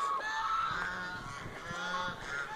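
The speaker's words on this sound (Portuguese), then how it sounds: "Ali temos uma família de gansos." Geese honk in short, overlapping calls over a steady background hum at a pagoda on Koh Dach Island, Cambodia, moderately near and fairly loud throughout.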